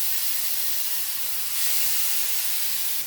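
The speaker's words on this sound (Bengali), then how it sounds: "এইবারে এই ম্যারিনেট করা মাছগুলো একটা একটা করে এখানে বসিয়ে দেবো।" Marinated katla fish frying in a pan of white oil with a little butter: a steady, loud, close sizzling hiss that holds evenly throughout, with no talking.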